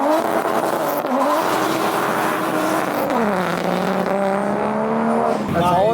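A 1JZ-engined drift car at a winter drift event revs hard, its loud, continuous engine note rising and falling through several pulls, with tire noise and faint background voices.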